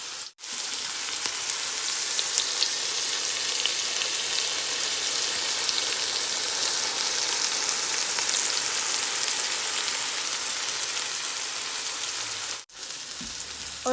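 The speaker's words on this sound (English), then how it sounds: "I'm gonna let this saute for about 2 to 3 minutes" Vegetables sautéing in a pan for a beef linguine, a steady dense sizzle and crackle of frying that holds evenly throughout, with a brief drop near the start and another near the end.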